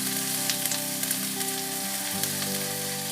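Crushed ginger and garlic frying in melted butter for butter chicken, a steady close sizzle with crackling pops and a light stir partway through, no voices.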